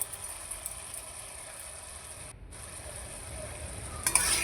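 Paneer curry simmers in a pan with a soft continuous sizzle and bubbling hiss. It stays low and even, with a brief dip and a slightly louder crackle at the end.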